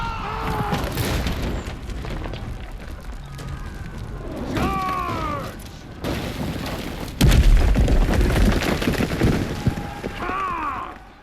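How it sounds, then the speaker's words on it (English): A siege catapult fires during a medieval battle in the video game For Honor: a deep, heavy boom bursts out midway through constant battle noise, with shouting voices and clashing all around. "That catapult's still ready to fire."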